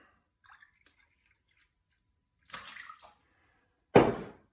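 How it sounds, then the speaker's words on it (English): A quarter cup of water poured into rum cake batter, heard as two short splashy pours, the second louder and closer, separated by near silence. "Quarter cup of water, otherwise known as a half a cup if you're making two."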